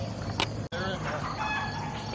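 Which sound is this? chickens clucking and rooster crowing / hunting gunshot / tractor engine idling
chickens clucking and rooster crowing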